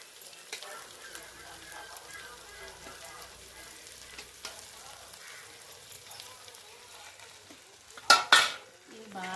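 Onions frying in a pan for a Telugu-style shark fish dish, a soft steady sizzle with occasional utensil scrapes and a louder clatter near the end, someone talking over the cooking.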